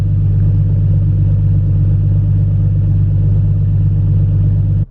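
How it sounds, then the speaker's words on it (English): A turbocharged engine in a BMW E30 with a 3-inch straight pipe exhaust from the turbo runs at a steady loud idle, a constant low droning rumble, cutting off abruptly at the end, with no one talking. "car is a straight pipe 3-inch from the turbo, and even the exhaust note itself, or the exhaust, is not that noticeable"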